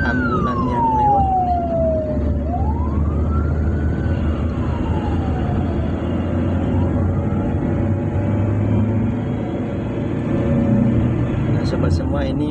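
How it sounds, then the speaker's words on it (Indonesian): An ambulance siren wails past on a busy city street in Pekanbaru, its pitch sweeping down and then rising again as it goes by, loud over steady traffic rumble and engine noise. "ada ambulan yang lewat"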